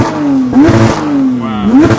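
Car engine revving hard against the brake during a drift session on used tires, loud and close, pitch rising and falling in two surging pulls.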